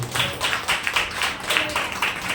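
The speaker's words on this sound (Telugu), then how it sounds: "చప్పట్లు తెచ్చుకోవచ్చు." Congregation at a Sunday worship service in a church, clapping in a rhythmic group pattern of repeated bursts, fairly close and loud, with no speech over it.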